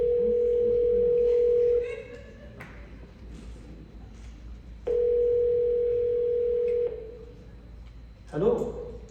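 Telephone dial tone during a call placed in a stage play, heard as two long steady tones of about two seconds each separated by a lull, with faint room noise and a brief rustle near the end.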